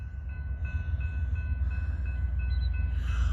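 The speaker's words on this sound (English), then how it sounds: "Train!" Passing train rumbles steadily with a deep continuous roar and faint high squealing tones from the wheels, growing slightly louder over a few seconds, heard during an outdoor walk.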